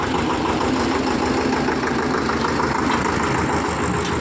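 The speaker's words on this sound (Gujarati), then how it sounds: "અને આ ટ્રેક્ટર આમ જઈ રહ્યું છે।" A tractor engine runs steadily on a farm during wheat harvest season, with a dense, rumbling drone that stays loud and unchanging throughout.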